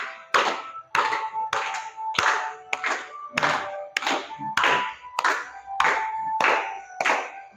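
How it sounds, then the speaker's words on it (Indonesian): Students at a junior high school gathering clap their hands in a steady, fairly even rhythm, about eleven sharp claps in a row, close by and loud with no talking. "Boleh ambil tepuk tangan."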